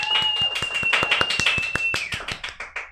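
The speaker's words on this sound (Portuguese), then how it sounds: "Minha gente, uma salva de palmas!" At a seminar on art and autism, a small audience claps in a quick, fairly regular run of hand claps close to the microphone. A whistle-like tone runs above the clapping before it fades out.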